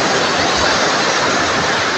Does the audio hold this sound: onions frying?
no